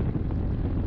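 Low, steady roar of rainwater rushing like a river down a flooded street in Powidz, Poland, mixed with gusty noise buffeting the microphone, loud and continuous with no talking.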